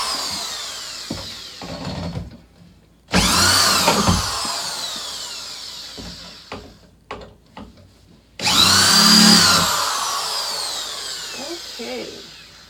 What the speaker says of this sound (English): I've never used a power tool in probably 15 years.